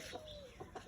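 Short, clucking calls from a chicken, several brief bursts close by with a steady background hum.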